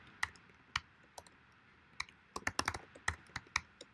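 Typing code on a computer keyboard, crisp close key clicks coming in irregular bursts with short pauses between them, quiet room, no talk.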